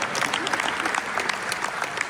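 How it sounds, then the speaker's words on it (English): Audience applause at a Mindvalley event in Amsterdam, a dense, even rattle of many hands clapping together, steady and fairly loud for the whole stretch. "Can I have a round of applause for the sharing together?"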